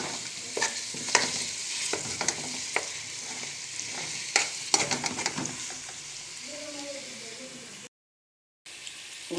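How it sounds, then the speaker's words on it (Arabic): Onions are stirred and fried in a pan, with scraping strokes and crackling sizzle up close. The sizzle softens toward the end as a voice speaks briefly. "وتقلبها ببعضين. الواحد يقلبها على البصله"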